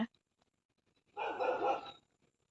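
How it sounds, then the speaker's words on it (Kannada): Outdoors in a rural garden, a dog gives one short, moderately loud bark lasting under a second, with quiet surroundings before and after. "ಒಂಜಿ ನಾಯಿ ಕುಡೆ ಇಪ್ಪುನಕೆನುಂಡು ಐಟ್ ದುಂಬುದ ಅವಾಜ್ ಕೇಂಡ ನಿಗಲಿಗ್"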